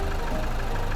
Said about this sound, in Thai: คงได้ยินเสียงเครื่องยนต์รถนะครับ